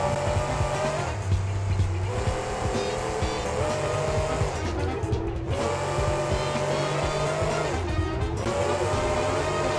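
A monster truck in a racing video game spins a donut on a dirt patch of a Mario Kart track, with a steady loud engine drone and repeated tyre squeal that swells and dips as it circles.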